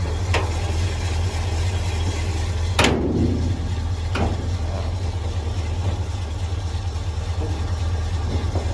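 A 1966 Dodge D100 pickup with a Poly 318 V8 idles steadily and close by, a constant low rumble with a couple of brief clicks or knocks, and no talk.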